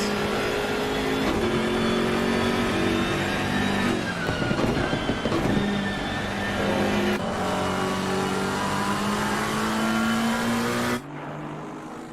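GT race cars in a Zolder racing game, BMW and McLaren fighting closely, engines droning loud and steady with rising and falling revs and shifting pitch, a brief rougher burst midway, then the noise drops abruptly near the end.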